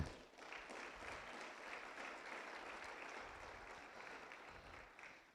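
A church congregation claps together in praise during a sermon, a steady, dense wash of applause that holds evenly for about five seconds before tapering off at the end.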